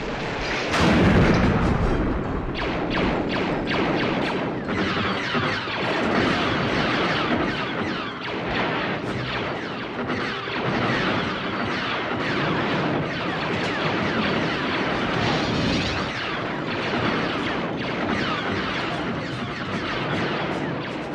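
Blaster fire and explosions from the opening battle of Star Wars: A New Hope form a dense, continuous barrage of loud zaps, bangs and booms with no pauses.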